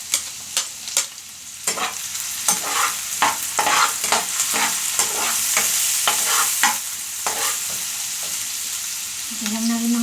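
Onion and garlic fry in a pan with a continuous loud sizzle, punctuated by the repeated scrape and clatter of stirring utensils, ending in a brief sharp tone.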